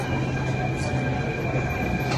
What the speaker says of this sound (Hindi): गाइस आ चुके हमारे मेट्रो, अभी चलते हैं